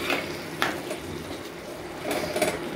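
A utensil scrapes and knocks against a pan while shrimp curry is stirred, soft clinks and scraping strokes at a low level, a few sharper taps at the start and a busier flurry near the end.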